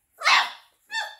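A Newfoundland puppy gives a sharp, close yip-like bark followed by a second, shorter bark.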